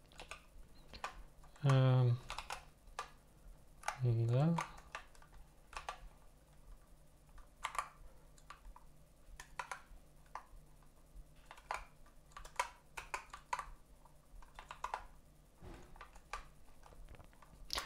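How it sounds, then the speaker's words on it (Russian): Keys clack irregularly on a Dactyl Manuform split ergonomic keyboard, a steady scatter of light clicks with brief pauses. Two short hummed or voiced sounds rise above the typing early on. "Я вместо таба нажимаю Escape постоянно, и он у меня сбрасывает"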